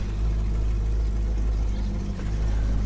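A Holden HK truck engine, swapped from a 186 to a 253, runs with a broken exhaust, giving a loud, steady, rumbling drone heard from inside the cab with a slight rise and dip in pitch.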